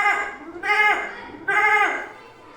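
A boy imitates a billy goat's bleat with his voice, giving two wavering, quavering bleats close to the listener, each about a second long with a short pause between them.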